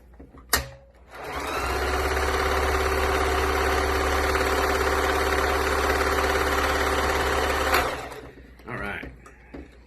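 A sewing machine runs continuously for about six seconds, stitching two cloth edges of a homemade face mask together. It starts and stops with clicks, and a steady motor hum and rapid needle chatter sit between them.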